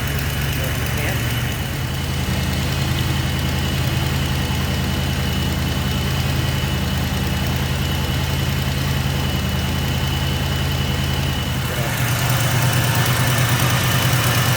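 A wagon's car engine idles steadily after five minutes of running, a continuous low rumble with a faint ticking knock, loud and close throughout with no talk over it.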